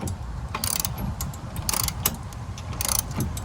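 Hand ratchet tightening a pivot bolt on an e-bike rack mounted at a truck tailgate: several short bursts of close, crisp clicking separated by brief pauses.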